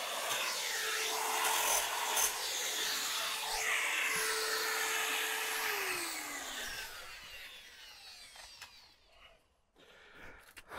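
A power sander grinds paint off wood siding, a steady abrasive rasp with a whining motor tone that winds down and stops near the end.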